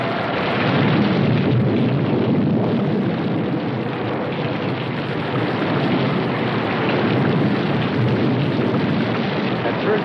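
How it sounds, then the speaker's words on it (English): Heavy rain pours down without pause in a thunderstorm, a loud, dense, steady hiss with low rumbling beneath, continuing evenly throughout. "We didn't pay much attention to the rain, though it seemed heavier than any rain we'd ever seen."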